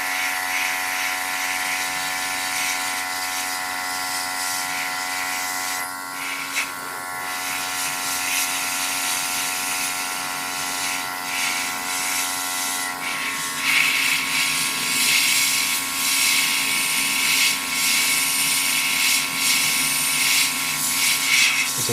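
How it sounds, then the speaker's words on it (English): An airbrush sprays paint onto a 1/144 Zeta Gundam model kit, a continuous close hiss with a steady compressor-like hum underneath, varying slightly in intensity as the trigger is worked. "a weird feeling using this airbrush, where you're pulling back on the rocker"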